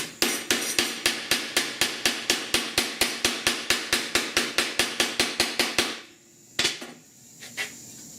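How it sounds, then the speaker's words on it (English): Steady, evenly spaced hammer blows ring off sheet metal being curled and rolled back for custom A/C dash vent pods, about two dozen sharp metallic strikes, then a pause and a couple of scattered clanks. "I gotta roll it back down again with my hammer."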